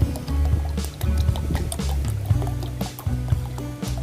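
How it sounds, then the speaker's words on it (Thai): Expanded EM solution mixed with water is poured out, giving a close, wet, gurgling splash with irregular drips and sloshing pulses throughout. "ผสมกับน้ำนะครับ เทลงไปเลยครับ"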